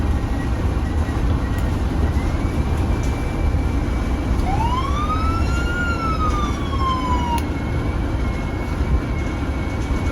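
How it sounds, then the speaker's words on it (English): A siren rises and falls once over steady crowd and engine noise at a no-prep drag race, moderately loud. "I should have turned on the sirens on them."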